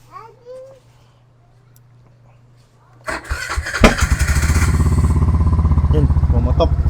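Suzuki Burgman scooter engine cranks and catches midway, then settles into a loud, close, steady idle with a rapid pulsing beat; faint voices and a child's babble are heard before the start.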